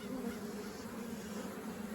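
Honey bees buzz continuously at an open hive during a state inspection, a dense, steady drone close by with no talk over it.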